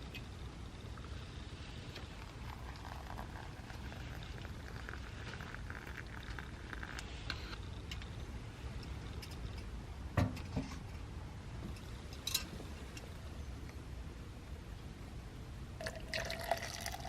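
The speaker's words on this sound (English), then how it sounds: "some water heating up on the stove" Water heats in a pot on a camp stove inside a heated winter tent on a 10-degree night: a steady, close hiss and rumble, with occasional soft clinks and ticks, and no voices.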